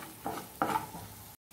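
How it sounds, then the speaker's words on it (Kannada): A chili powder spice mix for egg fry stirred in a bowl, two short scraping strokes, close and fairly quiet, with no talking before it cuts off. "ಇದೆಲ್ಲ ಮಿಕ್ಸ್ ಮಾಡ್ಕೊಳ್ಳಿ"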